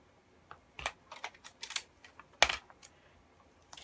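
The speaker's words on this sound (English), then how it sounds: "I'm going to go ahead and tape this down" Tape being pulled and pressed down onto sewing pattern paper, a quiet, close series of short crinkling taps and rips in uneven bursts, with one sharper tear near the end.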